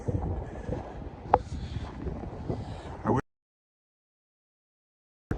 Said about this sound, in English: it's been very windy all day